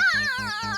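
A cartoon cat meows three times in quick succession, clear, close and high-pitched with a wavering tone.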